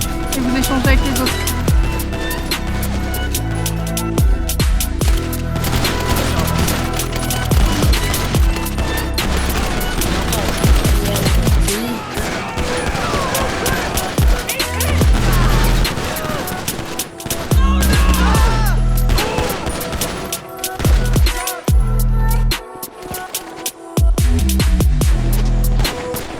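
Rapid gunfire bursts crackle nonstop through a GTA roleplay shootout involving police, loud and dense, with scattered voices and game sounds underneath and brief lulls near the end.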